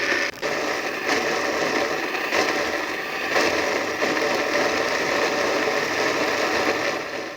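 A blender whirs steadily, blending raw mango chutney with a little water into a tangy-sweet green sauce, its motor loud and continuous with a brief dip near the start and a slight rattle throughout.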